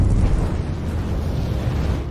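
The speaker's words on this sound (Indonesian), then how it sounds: "Namun tiba-tiba sebuah energi spiritual meledak tidak jauh dari tempat mereka." An animated explosion of spiritual energy bursts as a dense, loud, low rumbling blast that stays broad and sustained for about two seconds, with no voices over it.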